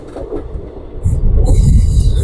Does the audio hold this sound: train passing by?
yes